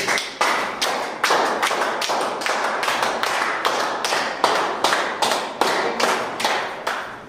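An audience claps hands together in steady unison, a long run of loud, evenly spaced rhythmic claps heard close and without speech.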